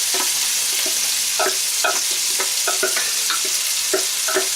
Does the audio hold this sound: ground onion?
yes